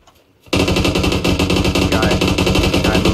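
Loud automatic gunfire erupts in the video game PUBG after a brief quiet start, a dense rapid burst of shots that carries on without pause to the end.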